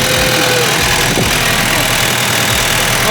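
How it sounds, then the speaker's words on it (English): A Toyota Surf, the overseas 4Runner, runs its 4-cylinder diesel engine with a loud, steady, close rumble and no break at an outdoor off-road mud event. "Look at that little diesel, sick!"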